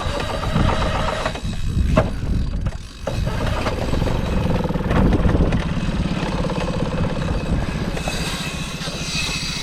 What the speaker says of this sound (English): I'll start the engine and go after this fish.